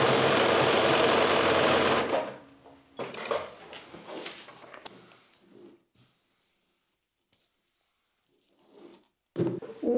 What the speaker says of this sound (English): I pin it in place and then can go to my sewing machine.